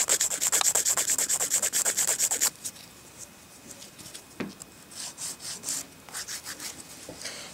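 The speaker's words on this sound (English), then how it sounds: "Start filing with the coarse side, and then you move to the softer side." Coarse nail file rasps over a sculptured acrylic nail on a plastic practice finger, starting with quick, even back-and-forth strokes, then easing into lighter, irregular scrapes, up close with no talking.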